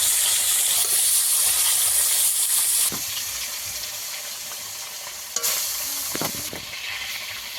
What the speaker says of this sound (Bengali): তেল ভালোভাবে গরম হয়ে গেছে, একে একে মাছগুলো দিয়ে দেব। প্রথমে মাছের মাথাটা দেবো, পিসগুলো দিয়ে দেবো।